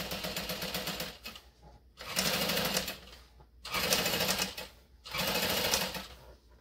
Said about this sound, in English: get it under there, and start top stitching.